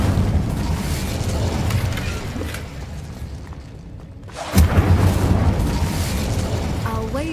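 Incendio fire spell cast in Hogwarts Legacy, a loud booming whoosh that bursts out midway over a dense rumbling background.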